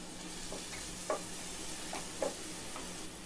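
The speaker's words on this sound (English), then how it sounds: "Saute this for some time" Chopped carrot, cabbage, capsicum and onion being sautéed in oil, with a quiet soft sizzle and a few light scrapes of a spoon against the pan, close and faint, with no voices.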